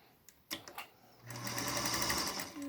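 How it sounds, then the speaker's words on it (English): A sewing machine running a quarter-inch seam on quilting fabric, with a few handling clicks first and then a steady, close, fast mechanical whir. "I'm literally just going to sew a 1/4 inch seam all the way around."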